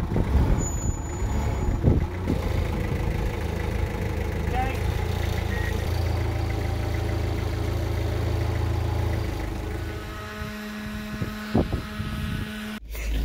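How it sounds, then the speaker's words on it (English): A forklift truck carrying a boat engine toward a van runs with a steady, rumbling motor that fades after about ten seconds, followed by a few clanks, while people talk nearby. "So we'll pick it up with a forklift truck that Tash is driving, and we're going to put it in the van"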